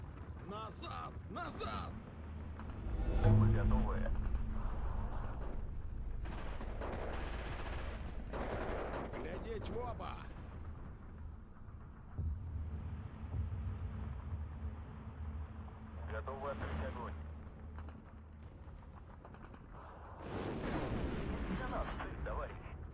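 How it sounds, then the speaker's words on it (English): Gunfire in Steel Division 2, a WW2 real-time strategy game: distant booming shots and rattling bursts rumble through the battle ambience, strongest early on and again near the end, under someone talking through most of it. "All those shots coming in on the Kalash, they're just absolutely wiping them."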